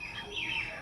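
Baya weaver birds chirp faintly in the distance from a tree near a rooftop on a hot, still day, a brief thin twittering.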